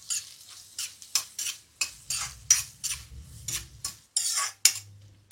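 Chopped onions stirred in a frying pan over high flame, a rapid series of scraping strokes of a spoon against the metal pan, close and fairly loud, over a soft sizzle.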